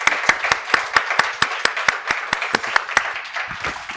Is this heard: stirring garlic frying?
no